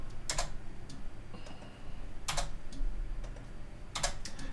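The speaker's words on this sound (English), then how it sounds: "so you just type this number 94, 185, 94, 92" Computer keys clatter in short clusters as numbers are typed in, with quiet pauses between the bursts. The taps are close and crisp, with no talk.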